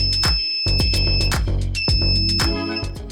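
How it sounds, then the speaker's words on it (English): A loud, sustained electronic beep from an automatic door's control card sounds with one brief break, over a rapid run of sharp mechanical clicks and thumps. "the control card will give you a long beep"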